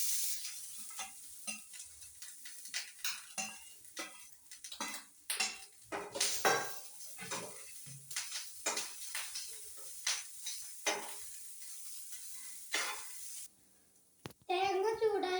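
Grated coconut is stir-fried in a pan with ghee, mostly a run of scraping and tapping strokes from a spatula against the metal over a faint sizzle, with a short rattle near the end.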